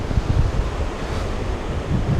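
Surf breaking along the shore at Pacific Beach on a cold evening, a steady rolling wash of waves with wind buffeting the microphone throughout, no voices.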